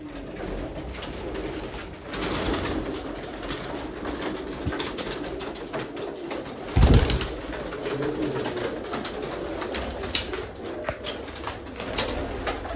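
A large flock of pigeons kept for sale coos continuously up close, a dense overlapping murmur with a brief loud burst of wingbeats near the middle as birds take off and settle.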